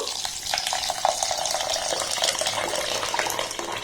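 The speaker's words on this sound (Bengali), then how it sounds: "এবার এখানে আমি জল দিয়ে দেব।" Water pours into a bowl of freshly washed rice, a steady close splashing gush that runs the whole time with no talk.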